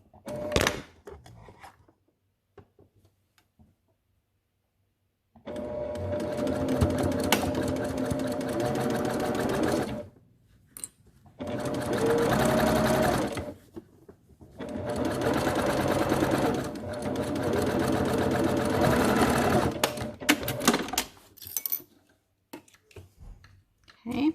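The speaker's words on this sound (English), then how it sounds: "And now I'm going to just sew along the bottom of my mask here." Sewing machine stitching along the bottom of a children's fitted fabric mask, running in three long, steady whirring bursts with brief stops between them, close by, after a quiet start with a few clicks.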